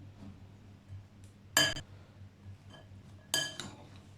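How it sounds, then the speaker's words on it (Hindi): A spoon clinks twice against a bowl, a few seconds apart, while boiled potatoes, chickpeas, green chillies and coriander are mixed together for a Lahori chaat, with soft scraping between the clinks. "हरी मिर्चें और धनिया, इन सब चीज़ों को मिक्स कर लेंगे।"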